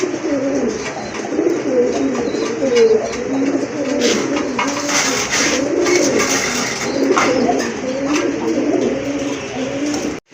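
Pigeons at a pigeon market coo in overlapping, rolling calls, loud and close, continuing steadily with some background rustle and clatter throughout.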